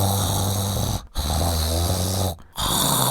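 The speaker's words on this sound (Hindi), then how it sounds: "खर्राटे लेना बंद करो" A cartoon character snores loudly in rhythmic, drawn-out cycles, each rasping breath separated by a brief silent gap, close up and with no talking.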